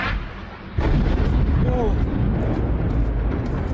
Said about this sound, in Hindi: बहुत ही तेज़ धमाका हुआ है, बेहद तेज़ धमाका।